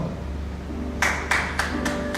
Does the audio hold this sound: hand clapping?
yes